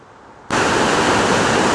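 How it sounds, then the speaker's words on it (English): A river beside the Kancamagus Scenic Byway in New Hampshire rushes loudly. After a quiet half second, a steady broadband roar of flowing water comes in abruptly and holds close and even. "I can hear the river flowing."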